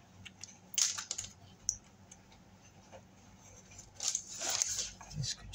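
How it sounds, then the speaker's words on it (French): Scrapbooking paper being cut straight with scissors for a travel-case album: soft, crisp snips and rustles in short clusters, fairly close but faint, with quiet pauses between cuts. "Et là, pareil, on va couper droit. Je vais couper à ce niveau-là."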